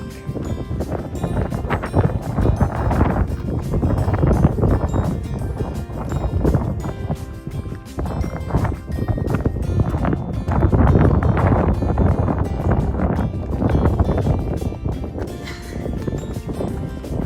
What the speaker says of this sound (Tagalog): Ang simoy ng hangin malamig.